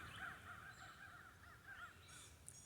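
Crows caw in a quick series of harsh calls, moderately distant, with outdoor ambience underneath.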